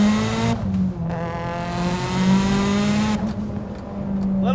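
A 650-wheel-horsepower Mitsubishi Evo 8 pulls hard through third gear, its loud engine note climbing steadily in pitch with a short dip and a rough, continuous roar close by.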